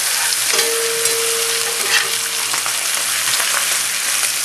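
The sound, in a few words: browned meat frying in a pan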